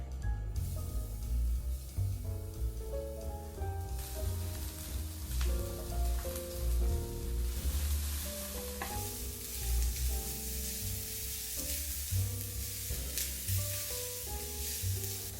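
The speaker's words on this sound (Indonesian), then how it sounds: "Kemudian tumis bawang dan jahe menggunakan minyak kelapa." Onion and ginger sauté in coconut oil with a soft, continuous sizzle and occasional stirring, set under gentle instrumental background music with no talking.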